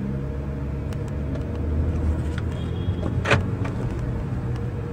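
An automatic car idles with a low, steady engine rumble heard from inside the cabin, swelling slightly as it starts to pull away, with a brief click partway through.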